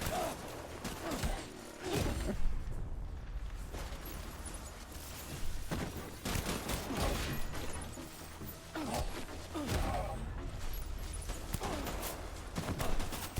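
Grenade explosions and gunfire in the video game Death Stranding, a dense, loud barrage of booms and rattling shots with whooshing debris, nearly continuous for the whole stretch with brief dips between blasts.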